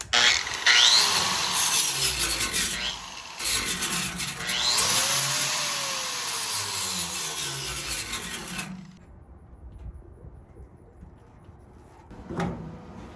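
A Metabo angle grinder grinds metal before MIG welding. The harsh, loud, whining grind runs in long bursts with brief pauses and pitch dips under load, then cuts off into near quiet, with a short clatter near the end.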